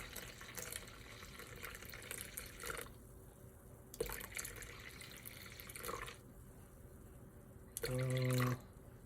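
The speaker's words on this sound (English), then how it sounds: "it's also 365 grams of water, warm tap water" Warm tap water runs and drips into a container while bread dough ingredients are measured, faint and steady, with a brief louder pour near the end.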